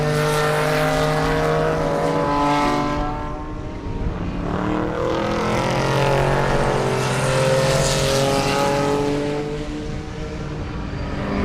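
Vintage class race cars passing on the Sebring racetrack, loud engines roaring close by with strong harmonic tones that rise and fall as several cars sweep past one after another, with no talking.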